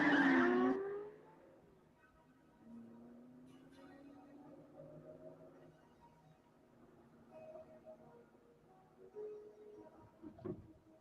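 A car pulls away fast with a loud, sharp tire screech at the start, then the engine revs and fades into the distance over a low rumble, with a faint thump near the end.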